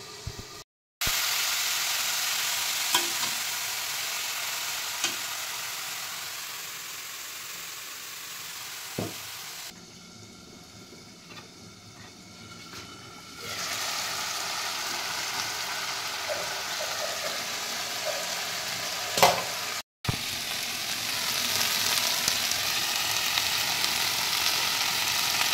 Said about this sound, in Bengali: সয়াবিনের যে আলু, সেটা এখন ভাজা চলছে,